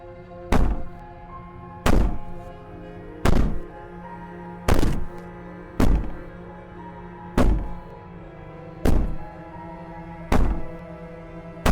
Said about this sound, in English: Maybe the banging and wailing will stop if you just don't pay attention to it.